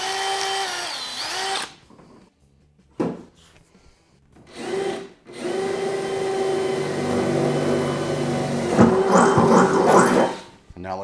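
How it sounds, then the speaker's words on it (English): A power drill bores rivet holes in an aluminum 1448 Lowe jon boat, whining loudly in several bursts separated by pauses, with the longest burst grinding on steadily near the microphone and a voice heard briefly. "Make sure that when you're drilling your hole for connections, you don't drill them too high."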